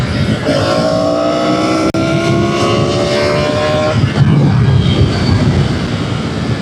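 A 2025 Triumph Tiger 900 Rally Pro motorcycle accelerates hard uphill in third gear, its engine note climbing steadily in pitch, loud and close amid wind rush, then easing into a lower, rougher drone.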